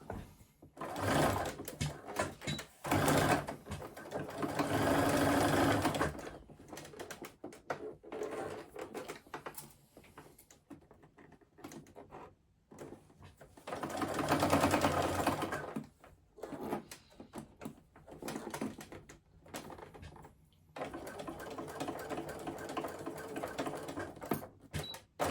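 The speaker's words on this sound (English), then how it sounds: "I'm literally just sewing through the outer layers of fabric." A sewing machine stitches across the outer fabric layers of a crossbody bag, starting from the side seam. It whirs in several sustained runs of a few seconds each, broken by short pauses and soft handling clicks.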